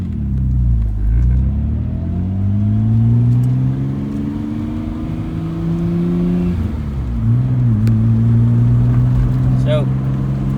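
A Nissan R32 GTR engine drones and rises in pitch as the car pulls away and accelerates, dips briefly around a gear change, then climbs again, loud and continuous, with the steady rumble of driving beneath.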